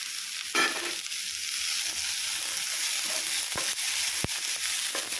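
Capsicum added to a hot frying pan for pav bhaji, a steady loud sizzle with a few sharp clicks and knocks of the spatula against the pan, no voices.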